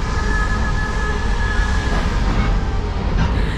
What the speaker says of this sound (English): this train just slowly going forward